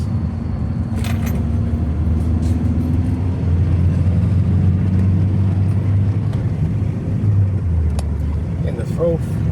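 A Ford Transit six-speed van climbs a steep hill in third gear, its engine a steady low drone with road rumble heard from inside the cab, and someone talks over it throughout.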